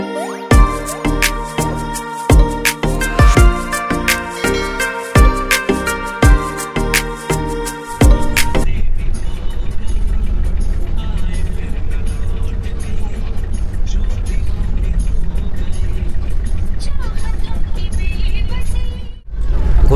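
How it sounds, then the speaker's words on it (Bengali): A Shyamoli AC bus runs fast over the Haldi bridge, a steady, loud rushing road roar from inside that starts abruptly after a stretch of rhythmic music and continues to the end. "আমাদের বাস হলদি ব্রিজের ওপর দিয়ে দ্রুত গতিতে ছুটে চলল কাঁথির দিকে।"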